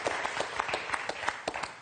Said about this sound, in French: j'applaudis